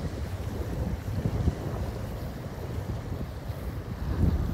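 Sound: strong wind at the seaside, wind noise on microphone

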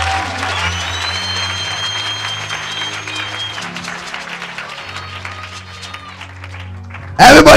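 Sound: congregation clapping and cheering for Jesus

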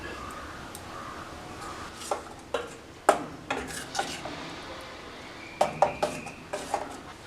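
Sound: stirring curd into cooked ridge gourd pachadi in pot

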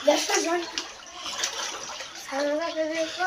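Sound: rainwater flowing into a house

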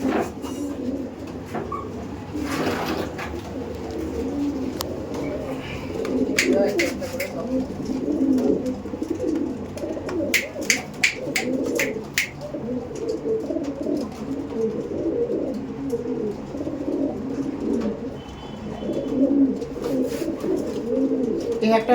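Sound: Mangalgiri pigeons cooing

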